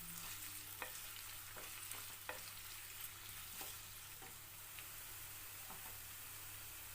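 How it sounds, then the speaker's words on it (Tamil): Chopped onions sauté in a hot pan for mushroom biryani, a faint, steady low sizzle running throughout with occasional soft clicks of stirring against the pan. "வெங்காயம் சாஃப்டாகிற வரைக்கும் வதக்கினாலே போதும்"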